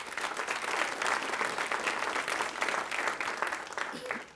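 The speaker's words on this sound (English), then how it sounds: "So give yourselves a round of applause" An audience applauding at a college district convocation, a sustained crowd clapping at fairly low level that stays steady, then fades slightly at the end.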